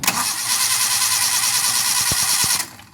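A Suzuki Carry 1.0 engine cranks on its starter motor in a loud, steady whirring drone for under three seconds before stopping abruptly, close up with no talking.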